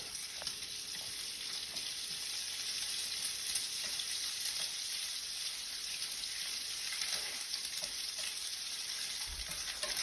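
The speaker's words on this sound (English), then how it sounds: "I've got about a tablespoon of butter I'm going to throw in there as well. Stir my bacon around." Bacon and a tablespoon of butter fry in a pan with a constant, fine sizzle, broken by faint scrapes of stirring; the sound is moderately quiet and even, with no speech.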